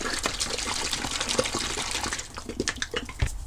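Casting resin, a 50-50 mix including P6 toughened resin, is poured into the top of a two-part gear mould, giving a continuous liquid trickling and gushing sound that thins out toward the end.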